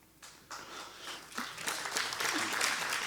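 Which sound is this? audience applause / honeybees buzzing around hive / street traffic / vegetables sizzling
audience applause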